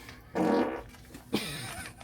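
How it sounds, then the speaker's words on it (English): A person breaks wind in two loud, close, sputtering bursts separated by a short pause, with no talking. "You farted in here"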